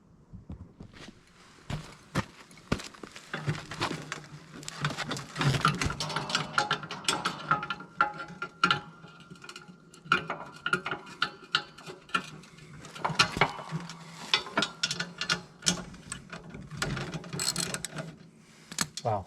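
A ratchet loosens the pivot bolt on a Moose Utility snowplow push tube in quick bursts of clicking and rattling metal, close and fairly loud, with short pauses between runs.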